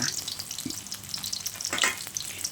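Thai corn fritters made without flour or egg fry in a pan, a continuous bright sizzle and crackle of hot oil close by, with faint scraping touches.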